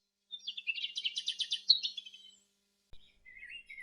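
Birds chirp and tweet at dawn in a quick, bright run of repeated notes, then fall silent for a moment before a softer trill follows, close and clear with no talking.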